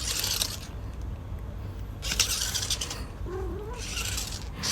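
Pet cats playing with a ball toy for the first time, making short bursts of rattling and scuffling that alternate with quieter gaps, plus one brief soft meow near the end.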